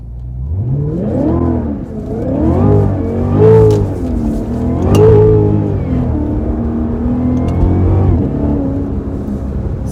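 A Cadillac CTS-V accelerates along a backroad with cold tires, its engine note climbing and falling in several rising surges, loud and close throughout.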